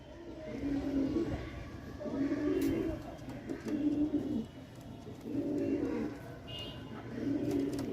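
Pigeons, Teddy females of an Andhra breed, coo in repeated low throaty phrases close by, several bursts roughly every one and a half seconds, with faint chirps and background noise.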